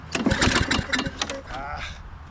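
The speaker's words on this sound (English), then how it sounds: "Kind of feels like it's backfiring." A lawn mower engine with a sheared flywheel key and off timing runs roughly, with sharp irregular pops that suggest backfiring, close and fairly loud, while a voice talks over it.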